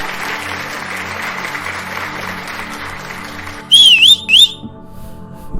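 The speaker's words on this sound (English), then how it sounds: "Thank you for the claps." Audience clapping rolls on steadily for several seconds, then two sharp, loud whistles cut through near the end as the clapping thins out.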